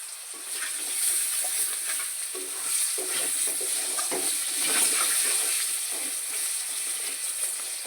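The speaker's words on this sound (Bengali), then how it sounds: "এখন আলুটাকে ভালো করে সুন্দর করে লাল লাল করে ভাজবো" Steady crackling sizzle of potatoes with salt and turmeric frying in oil, with occasional stirring scrapes, close and continuous with no voices.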